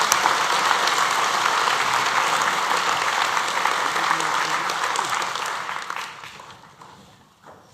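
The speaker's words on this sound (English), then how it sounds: "Final round of applause for the students getting the Biz Admin Level 2." An audience claps steadily and loudly for business administration students at a graduation ceremony, holding a sustained dense applause that thins out and fades toward the end.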